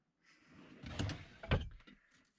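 Storage drawer in a converted van's kitchen sliding open, a short rattling glide with a couple of soft knocks, quiet and close.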